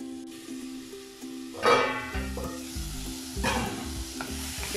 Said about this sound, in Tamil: பீட்ரூட் நல்லா வதங்கிட்டு இருக்கு.